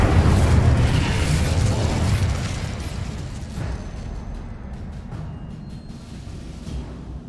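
A loud fiery blast from the Incendio spell in Hogwarts Legacy, bursting at the start and then rumbling away over several seconds, with smaller crackles and pops trailing after it and no voices.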